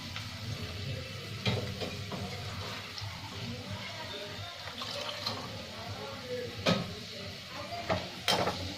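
Onion frying in a pan for brinjal pachi pulusu gives a soft, steady watery sizzle with occasional sharp clicks and clatters, fairly quiet throughout.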